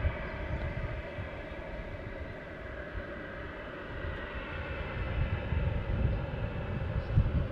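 A KLM airliner departs from Manchester Airport, its engines a steady, broad roar that builds gradually in loudness over several seconds, with no voices heard.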